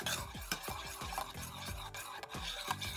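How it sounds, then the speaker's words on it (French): A mango and passion fruit coulis is stirred in a saucepan over low heat, a utensil scraping and knocking against the pan in steady repeated strokes, close and fairly loud, with no talking. "on mélange la mangue et le coulis dans une casserole et on fait chauffer à feu"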